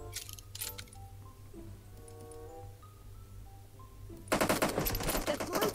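Gunfire in a PUBG Mobile 4v4 team match: a few scattered shots early, then a sustained loud burst of automatic fire in the final seconds over quiet in-game ambience.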